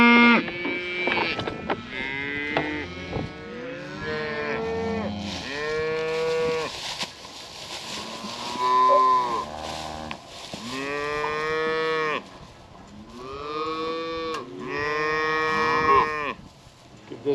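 Steers and calves moo loudly and repeatedly, with many overlapping calls close together and no talk over them.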